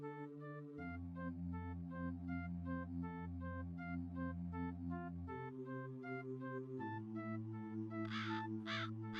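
A crow caws twice in quick succession near the end of a fantasy adventure game scene, rising clearly over a steady, loud synthesized music backdrop.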